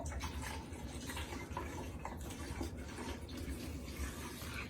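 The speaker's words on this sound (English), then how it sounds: "So I filled it up about a third of the way for right now." Distilled water pours steadily into the plastic tank of a TaoTronics cool mist humidifier, a soft continuous splashing trickle, close and fairly quiet, with no talking.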